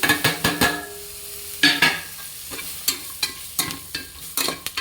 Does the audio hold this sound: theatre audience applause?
no